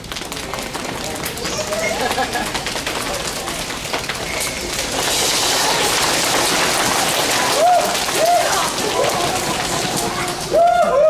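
A library audience imitates a rainstorm with rapid patter and rushing noise that swells louder, with occasional high voices and squeals breaking through.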